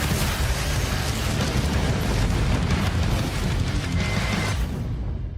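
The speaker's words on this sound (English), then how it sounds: "Lots of explosions" Explosions in a Star Citizen ship trailer: a dense, continuous roar of booms and blasts with heavy low rumble, loud and sustained throughout before cutting off at the end.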